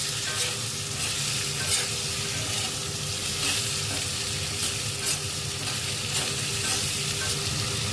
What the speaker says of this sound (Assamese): আমখিনি দি কিনে অকণমান ভাজি ল'ম।